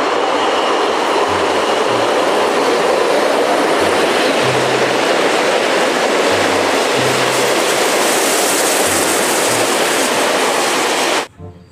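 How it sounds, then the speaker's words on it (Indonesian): Toy steam locomotive train running, a loud, continuous rattling rumble with faint rhythmic clicking, steady for the full stretch before cutting off abruptly near the end, with no voices. "ini ada kereta api uap"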